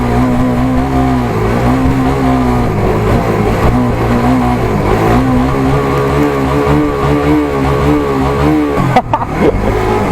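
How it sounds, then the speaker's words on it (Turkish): A vehicle engine warming up before a Fiat Albea versus Suzuki GSX-R 125 race. It hums steadily and close by, with mild rises and dips in revs, and gives a short jolt near the end. "Biraz şöyle motoru ısındırayım."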